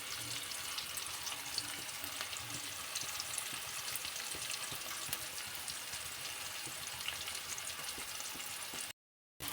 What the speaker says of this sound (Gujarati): હવે આપણે થોડીક વાર મરચાંને ડુંગળીને સરસ રીતે પાકવા દેશું